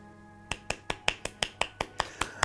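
Fingers snap in a Vampire the Masquerade: Of Blood & Roses game scene, about eleven crisp, close snaps in a quick, even rhythm after a brief quiet start.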